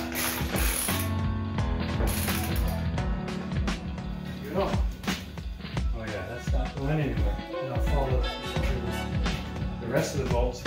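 A ratchet tightens the remaining bolts on a DIY wooden workbench, its rapid clicking repeating in bursts amid other clatter and handling noise, with a person talking now and then.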